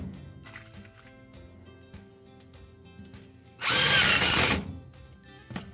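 A power drill whirs loudly in one burst of about a second, driving a screw into sheet metal on a trailer inner fender, after quieter handling noises and light clatter.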